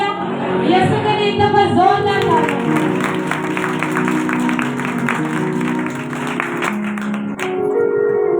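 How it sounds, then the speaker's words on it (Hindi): Congregation clapping during an Easter sermon, sustained rapid applause from a crowd filling a church hall, with voices and shouts mixed in throughout. "यीशु के लिए एक दफा जोरदार ताली।"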